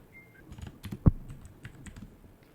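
Keys clatter on a computer keyboard as a Google search is typed, a quick run of light, close taps with one sharper, louder keystroke near the start.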